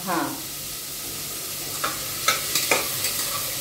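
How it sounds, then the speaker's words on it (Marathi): Onions sizzling in a pan while being sautéed for a mutton curry, a steady hiss close by, broken by a few sharp scrapes of a stirring spoon toward the end. "आपण थोडं लाल आता परतून घेऊ. कांदा लालसर होऊ तोपर्यंत."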